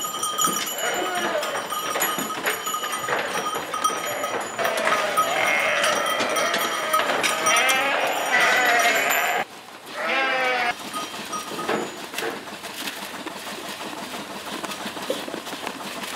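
Lacaune dairy ewes bleating repeatedly on a sheep farm, several overlapping calls near and farther off in a busy flock, with a person speaking over them.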